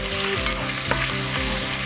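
Bacon fries in olive oil in a pot over medium-low heat, giving a steady, close sizzle with small crackles throughout and no voices.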